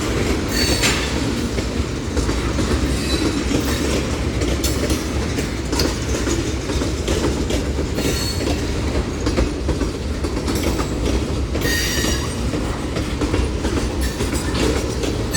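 A freight train hauling brand-new black and white tank cars rolls steadily past close by, its wheels clattering and rumbling continuously, with brief high squeals mixed into the dense, even roar.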